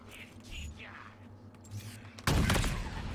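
Rapid bursts of weapon fire in Halo Infinite's Firefight mode, a sudden loud volley near the end after quieter game sounds, with a voice talking over the action.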